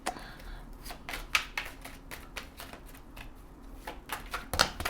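A deck of oracle cards is shuffled by hand, giving a rapid run of crisp, close riffling snaps and flutters that keeps going without pause, with no voice heard.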